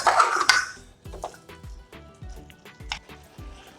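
Potato curry (aloo dum) is stirred in a pan with a spoon, giving a series of soft, wet clinks and scrapes in an uneven rhythm, close and fairly quiet. No one talks.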